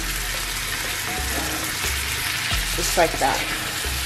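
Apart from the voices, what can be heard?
folding ackee and breadfruit filling in a pan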